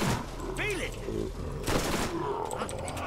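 Gunfire from a co-op session of the video game Borderlands while shooting zombies, a few loud cracks and a short burst over busy game noise and a creature shriek, with a voice chattering underneath.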